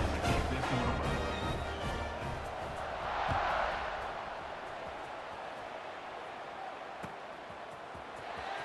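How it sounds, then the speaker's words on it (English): A football stadium crowd in a college football video game, Toledo versus Akron, buzzing after a score, a broad steady roar that swells briefly then settles into a fainter wash. "this crowd is buzzing after that last score"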